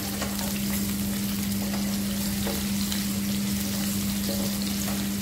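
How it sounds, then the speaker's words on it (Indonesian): Three sliced shallots sautéing in hot frying oil, giving a loud, dense, unbroken sizzle close up for the whole stretch, with a steady low hum beneath it. "tumis irisan bawang merah. Nah, ini bawang merah dari 3 siung, tumis sampai dia wangi dulu"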